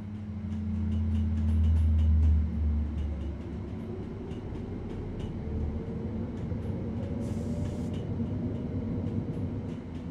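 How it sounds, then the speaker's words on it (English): A Class 377 electric multiple unit train in Train Sim World, on the Brighton–Eastbourne–Seaford East Coastway line, hums steadily from the inside, a low motor drone with a rising whine and faint rhythmic clicks of the track. "You're currently riding a Class 3774 electric multiple unit."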